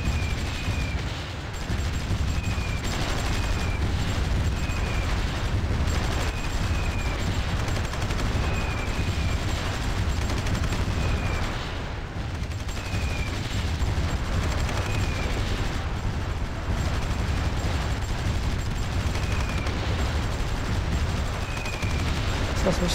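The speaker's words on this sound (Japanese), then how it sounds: "こんだけでも激しい空爆浴びせてますからね。" Airstrike explosions in the war strategy game Supreme Ruler 2020 form a continuous dense rumble of blasts and gunfire, with faint repeating high chirps over the steady battle noise.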